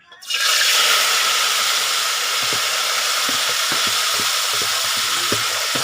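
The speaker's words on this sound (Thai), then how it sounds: "เราก็จะผัดผักบุ้งไฟแดงกันนะคะ" Water spinach hits hot oil with chilli and garlic in a wok, bursting into a loud, steady sizzle that holds throughout, with faint soft knocks of stirring underneath.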